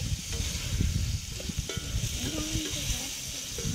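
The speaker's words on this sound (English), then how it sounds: "I'm just going to put in some nice samphire, stir that through." Prawns sizzle in garlic butter in a pan on the beach as samphire is stirred through, a steady close hiss with soft scraping and stirring, a voice speaking quietly underneath.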